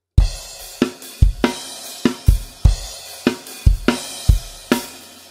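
A drum kit plays the rock beat from a song, with punchy kick and snare hits and washy crash cymbals in a steady, driving pattern, loud and close, with no voices.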